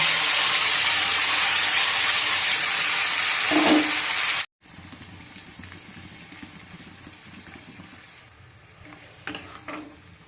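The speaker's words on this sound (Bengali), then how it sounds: "এখন আমি দিয়ে দেব মিক্সিতে বেটে রাখা সেই কপি পাতা কাঁচা লঙ্কা রসুন ধনে পাতা পেস্ট" Paste of cauliflower leaves, green chilli, garlic and coriander leaves hitting hot oil, giving a loud hissing sizzle that cuts off abruptly, then a quieter crackling fry with occasional stirring clinks.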